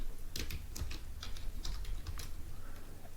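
Code being typed on a computer keyboard, a quick close run of key clicks in uneven bursts that thin out toward the end, with no voices.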